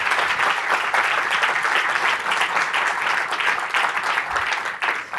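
Steady, full applause from a conference audience at a tourism event in Portugal, a dense wash of clapping filling the room at even loudness throughout.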